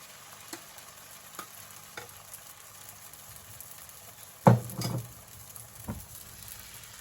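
A large spinach and oats crepe cooks in a pan with a low, soft sizzle, punctuated by light ticks and a louder scrape or clatter partway through, no voices.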